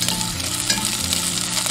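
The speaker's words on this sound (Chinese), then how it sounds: "下入香料炒香，把香料的香味全部激发出来" Whole spices stir-fried in hot oil in a wok, a continuous close sizzle with scraping stirring strokes, part of making braised beef.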